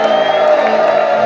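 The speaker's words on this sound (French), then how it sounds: "Est-ce qu'on peut pousser les cris de joie?" Congregation at a worship service shouting joyful cries together, a loud, sustained wall of massed voices and whoops.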